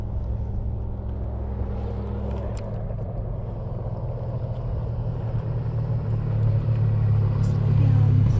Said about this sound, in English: And if you watch the dust cloud, the OHV is passing.